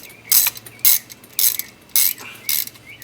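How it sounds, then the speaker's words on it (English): Short ratcheting metal clicks come in five quick bursts as a 12mm wrench tightens brake caliper bolts on a 1996 Honda Civic, close and crisp with quiet gaps between the strokes. "Take your 12mm wrench, tighten those back up."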